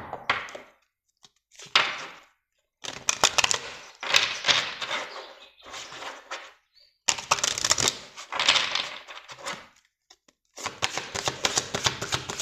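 Oracle cards are shuffled and drawn close by in repeated riffling, clattering bursts a second or two long, separated by short silent gaps.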